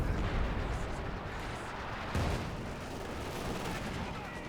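Artillery barrage from Company of Heroes 2 rumbles as a dense, continuous wash of booming impacts and gunfire, with a fresh heavy blast about halfway through, loud and unbroken throughout.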